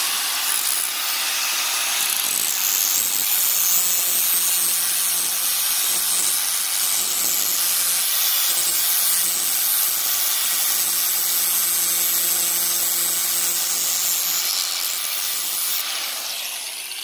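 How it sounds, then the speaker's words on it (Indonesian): An angle grinder whines loudly and continuously up close while smoothing the cut edge of an iron plate, holding a steady high-pitched grind for most of the stretch before easing off at the end. "langsung kita gerinda aja ya"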